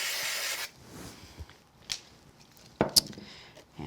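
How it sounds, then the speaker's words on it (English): Spray glue hissing from an aerosol can as a paper Easter basket piece is coated, a dense broadband burst lasting about half a second near the start, followed by quiet handling noises and light taps. "I'll use a little bit of spray glue"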